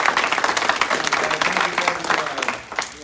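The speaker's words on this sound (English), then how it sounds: "big round of applause" A crowd at a martial arts black belt promotion ceremony breaks into loud, close applause, brisk overlapping claps with a few voices mixed in, dipping briefly near the end before continuing.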